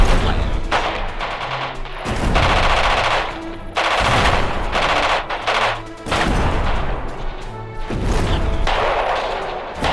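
Bursts of rapid machine-gun fire and loud gunshot volleys from the war strategy game Radio General come in repeated clusters, with short pauses between bursts and no talk.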